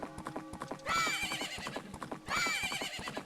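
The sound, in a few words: horse neighing and galloping in Majora's Mask video game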